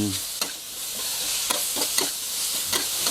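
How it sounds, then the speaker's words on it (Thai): Pork belly stir-fried with shrimp paste, stink beans, kaffir lime leaves and red chili sizzles in a hot pan, with a hiss of frying and periodic scraping stirs of the spatula at a slow, uneven rhythm. "ผัดให้เข้ากัน"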